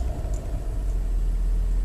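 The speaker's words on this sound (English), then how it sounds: "as I put it into drive, there's some sort of whining sound when I go forward" A Mercedes S55 AMG with a failing 722.6 automatic gearbox pulls forward in drive, giving a steady low engine rumble with a faint whine, close and continuous, no talk.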